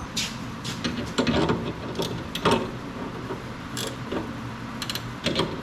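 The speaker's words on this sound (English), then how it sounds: "I'm gonna go find a ratchet wrench to make this quicker." A ratchet wrench tightens a nut during a farm equipment repair while making hay, giving close bursts of rapid metallic clicking with short pauses between strokes.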